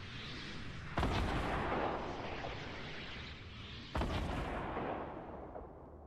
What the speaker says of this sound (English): Yeah, those rockets are really close.